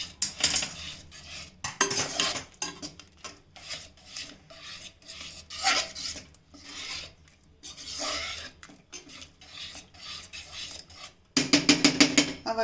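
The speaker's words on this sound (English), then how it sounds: "Now my seasoning is ready. Just give it a mix." A spoon scrapes and rasps against a pan while dal seasoning is mixed, giving close, rhythmic metallic stirring strokes with brief pauses and a louder burst of scraping at the end.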